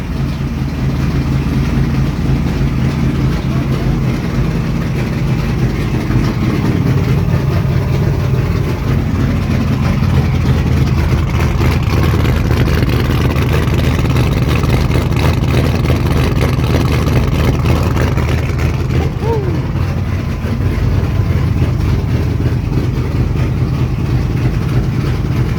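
A boat engine idles steadily and loudly at close range with a low, even rumble, continuing throughout with no talking.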